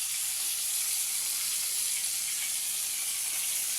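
Fish sizzling steadily in hot cooking oil over a wood fire, a loud continuous hiss with no break and no voices.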